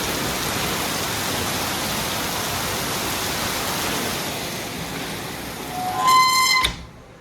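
Heavy rain roars in a dense, continuous hiss for several seconds, ending with a brief rhythmic clatter before fading.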